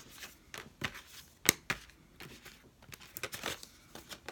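Tarot cards are shuffled in a quiet room, producing soft, irregular riffling and slapping bursts with one sharper snap partway through.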